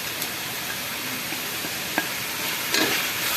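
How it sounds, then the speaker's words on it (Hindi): Mutton with red chili, salt and garam masala is fried in a pot with a steady, dense sizzle. A few scrapes and clinks from stirring sound close over the hiss. "अच्छे तरीके से भूनेंगे इसको।"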